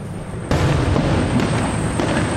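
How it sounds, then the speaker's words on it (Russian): Booming fireworks bursts at night in Vladivostok on Russia Day, a sharp onset followed by continuous rumbling pops and crackles, loud and fairly close, with a few further bangs. "Вот вам салют."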